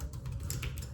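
Quick keystrokes on a computer keyboard during SQL coding practice: a short, busy run of close, light taps in an uneven rhythm, with no talking.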